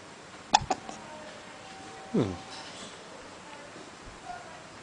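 A baby hiccups a few times in a quiet room, with short sharp catches of breath, the clearest near the start and another around the middle.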